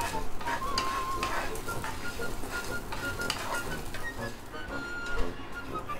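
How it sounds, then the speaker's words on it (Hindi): Grated coconut roasting with spices in a pan for a sambar, giving a soft, continuous sizzle and patter with faint scrapes of stirring and a few light clinks throughout. "दो तीन मिनट से हमने कोकोनट को भून लिया है"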